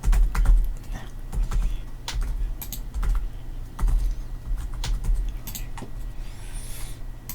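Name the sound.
typing on a computer keyboard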